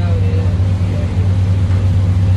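A small boat's engine drones low and steady while the boat turns on the water at night, with faint water and wind noise around it.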